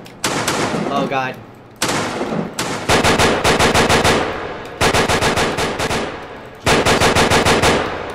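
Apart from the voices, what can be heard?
gunfire in a first-person shooter video game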